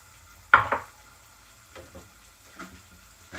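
A sharp sizzle as beans hit hot oil, followed by quieter clatters and faint frying crackle in an otherwise calm kitchen.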